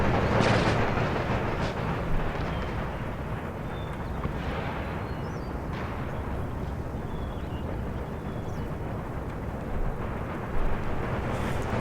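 Continuous heavy mortar and artillery fire rumbles through a large Empire: Total War battle against Spanish forces, dense booming blasts layered into a steady, loud roar with scattered sharper reports.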